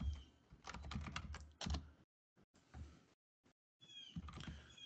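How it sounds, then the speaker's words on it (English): Quick bursts of keystrokes clatter on a computer keyboard as a command is typed, in uneven clusters separated by brief pauses, close and fairly quiet. "So for example, you type ping google.com."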